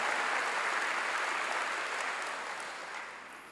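A church congregation applauds together in a dense, loud wash of clapping that holds steady and then gradually fades over a few seconds.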